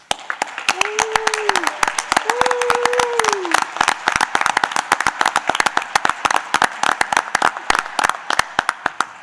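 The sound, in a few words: applause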